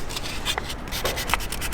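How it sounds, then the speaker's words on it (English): Brief scratchy rubbing strokes, like sandpaper worked over wood, come in short uneven passes at close range. "so we're sanding everything again one more time"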